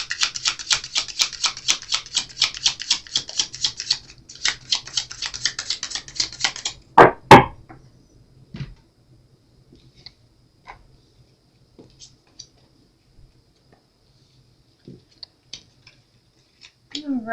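Decks of cards are shuffled in a fast, crisp riffling flutter for several seconds, close up, followed by a sharp snap and then scattered soft taps as cards are set down in near silence.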